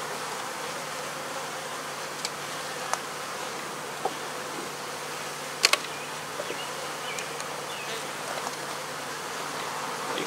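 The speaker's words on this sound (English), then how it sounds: "But these bees have had a desire to swarm." Honey bees in a swarming mood drone steadily around an open hive, a dense, even insect buzz lasting throughout, with a few faint clicks and taps on top and no talking.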